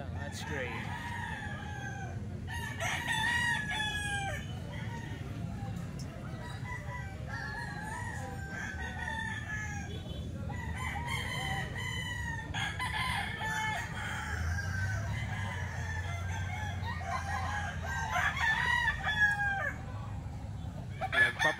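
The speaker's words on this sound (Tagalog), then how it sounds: "Nagpapatuyo yung mga manok," Several roosters crow repeatedly, near and farther off, their calls overlapping across a long stretch, with clucking fowl and a faint low hum of the farm underneath.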